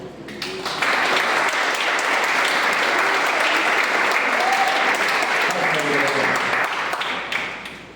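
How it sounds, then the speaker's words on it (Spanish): Loud, sustained applause from an audience at a missions talk, many hands clapping steadily for several seconds before tapering off at the end. "Y por eso quiero darles un aplauso."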